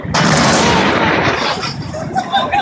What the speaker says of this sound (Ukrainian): Як бачимо з кадрів, вибух був досить потужним